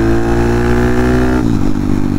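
A big bore 181 Honda Monkey motorcycle engine runs loud and close, holding a steady rev that then drops sharply, with a rough, buzzing exhaust note throughout.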